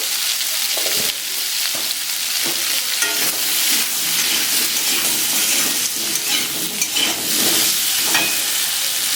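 Pointed gourd and potatoes with turmeric sizzle steadily in hot oil, a loud continuous frying hiss with occasional stirring scrapes close by.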